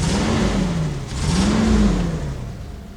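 A 2020 Detroit Gambler four-wheel-drive truck engine, running with no exhaust fitted, revs up and back down twice, a loud, raw, rising and falling roar close by.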